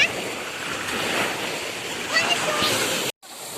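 Sea waves wash steadily along a shore where people are swimming, making a continuous broad rush of surf with a slight swell partway through. Faint voices sit underneath, and the sound cuts out briefly near the end.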